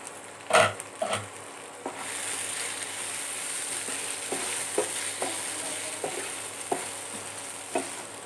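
Potato and pointed gourd sabzi cooking covered on low heat, a faint steady sizzle broken by a few clinks and soft scraping stirs of a spoon in the pan.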